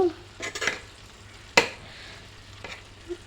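Partly cooked rice stirred into a frying pot of chicken biryani: a soft sizzle under a few scattered scrapes and one sharp clink of utensil on metal.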